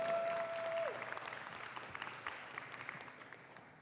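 Steady crowd applause for a 2021 school homecoming court, many hands clapping at a moderate distance and slowly fading, with a brief steady electronic tone at the very start.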